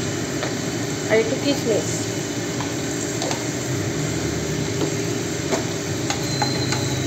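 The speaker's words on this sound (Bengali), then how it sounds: "সবটা এবার তেলে নাড়িয়ে নিচ্ছে" Onion, cashews and raisins fry in hot oil with a continuous close sizzle and occasional scraping stirs, while someone speaks briefly over it.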